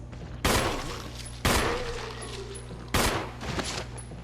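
Three sharp pistol gunshots ring out in Resident Evil, evenly spaced about a second apart, each a loud crack with a short decaying tail over a low ambient hum.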